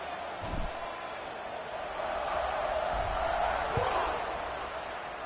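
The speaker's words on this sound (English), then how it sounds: "this crowd is buzzing after that last score" Stadium crowd murmur in an Iowa versus Minnesota American football video game, a steady, fairly faint buzz that swells slightly midway, with a couple of soft thumps beneath.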